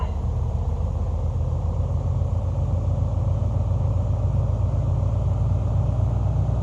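A light aircraft's piston engine in Microsoft Flight Simulator 2020 throttles up for a run-up on a Bahamas flight, giving a steady, loud, low rumbling drone that holds constant with no talk over it.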